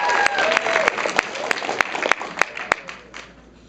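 An improv comedy audience breaks into loud, dense applause with scattered cheers, sharp individual claps poking through the wash before it thins out toward the end.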